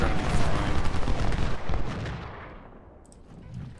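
Cannon and gunfire crack and boom in a Civil War battle in Ultimate General: Civil War, dense overlapping blasts for the first two seconds before fading into a distant rumble, with a faint voice near the end.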